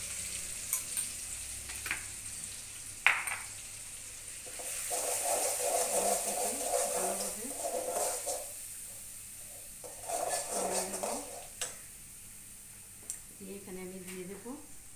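Onion paste sizzles and fries in a pan while being stirred, a soft hissing crackle with intermittent scraping, heard fairly quietly under someone speaking.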